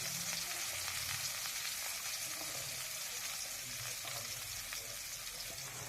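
Chili, onion and tomato frying in a pan, with a steady dense sizzle throughout and faint stirring sounds underneath.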